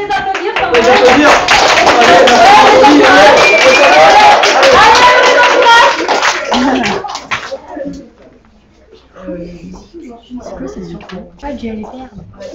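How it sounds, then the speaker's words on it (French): Students applauding semi-finalists at a middle-school quiz in a school hall, loud, close clapping with cheers for about six seconds, then fading into scattered chatter and talk. "On peut les applaudir"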